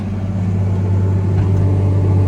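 Steady, loud diesel rumble from an Allis-Chalmers 8070 tractor dragging a subsoiler shank through hardpan, heard up close, with a slight lift in engine effort partway through and no voices.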